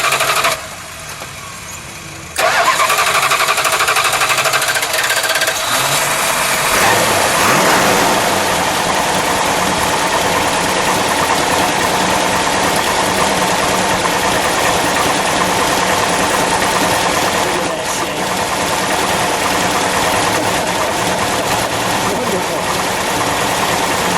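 A 1969 Plymouth GTX with a 426 Hemi V8 fires up after a brief quiet moment, then settles into a loud, steady, lumpy idle that runs close by for the rest of the clip, with a few small swells in engine note.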